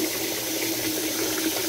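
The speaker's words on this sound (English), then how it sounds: "Alright, let's rinse off real quick." Tap water running over a razor after a shave, a steady close rush of flowing water with no voices.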